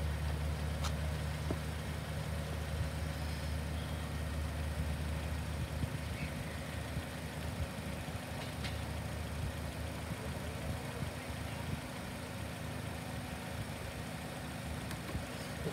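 A Honda car engine idles steadily throughout, a low continuous hum with a faint clicking or two, no voices present.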